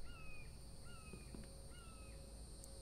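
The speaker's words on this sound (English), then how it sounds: "That's a bird." Three harsh crow caws repeat at a steady pace in a video game, fairly clear over a constant ambient hum with a faint high tone, with no talking.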